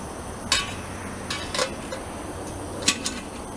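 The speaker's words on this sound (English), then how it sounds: "Put the lid on" A metal lid goes onto a small backpacking cooking pot, giving a few sharp close clinks and taps spread over a couple of seconds against a quiet outdoor background.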